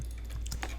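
A few quick keystrokes tap on a computer keyboard as a command is typed into Rhino 3D modeling software, light and close with no talk.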